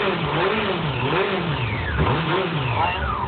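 A small moped engine revs in repeated wavering surges, rising and falling in pitch at close range. It drones continuously and loudly with no voices over it.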